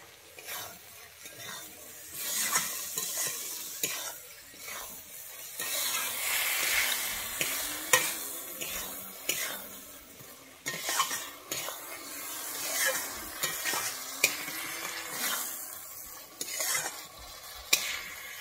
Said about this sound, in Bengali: আমি এর মধ্যে দিয়ে দিচ্ছি ভেজে রাখা ডিমগুলো।